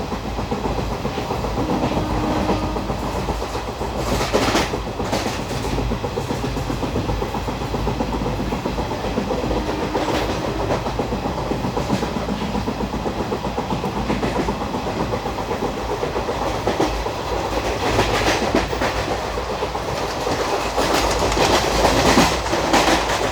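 The 22149 Ernakulam Pune Superfast Express runs steadily through the Bhor ghat during the monsoon, with a continuous loud rumble, rhythmic clickety-clack of wheels over rail joints and rattling carriages throughout.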